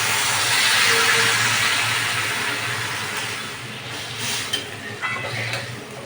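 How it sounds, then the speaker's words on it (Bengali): Water poured into a hot pan of fried potatoes and ridge gourd gives a loud, broad hissing rush of steam that slowly fades, ending with a few faint clinks. "এবার আমি এর মধ্যে জল ঢেলে দেবো।"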